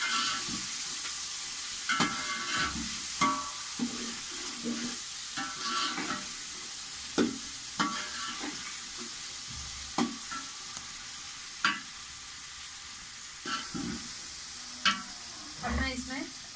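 Chopped tomatoes fry in a pan under a steady sizzle while a spoon stirs and scrapes the pan, giving sharp periodic clinks against the continuous hiss, close and moderately loud.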